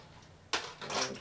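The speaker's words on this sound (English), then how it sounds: "we'll just grab some bolts" Metal bolts and washers clatter and rattle as a handful is grabbed from a container during a model railroad build, a sudden close jingle followed by a second brief rustle of parts.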